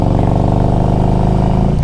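A 2004 Harley-Davidson Electra Glide Ultra Classic FLHTCUI with a rebuilt 1550 big bore engine and Screaming Eagle parts runs close by, giving a steady, loud, throbbing idle with no talk.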